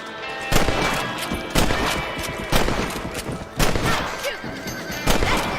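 Rifle shots ring out at rabbits in Red Dead Redemption, five loud sharp cracks spaced about a second apart over a bed of game noise, with a horse whinnying nearby.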